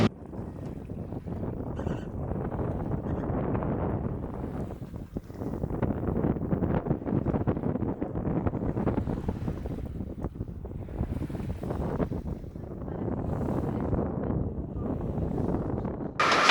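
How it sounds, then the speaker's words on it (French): Steady wind roars across the microphone with the wash of water against a moving sailboat under sail at night, continuous and loud, with no voices. "on a mis les voiles, on a retrouvé du vent"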